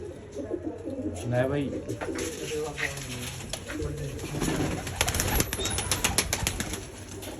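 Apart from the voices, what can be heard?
pigeons cooing in a loft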